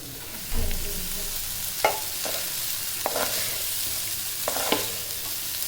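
Chicken rice with cooked basmati rice is stirred in a frying pan, close sizzling broken by several sharp spoon scrapes and clinks against the pan.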